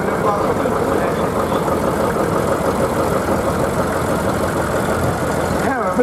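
An American tractor engine runs at a steady, throbbing idle at a ploughing match on Southrop Farm near Lechlade, loud and close, with a commentator talking over it.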